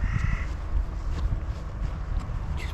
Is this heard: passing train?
no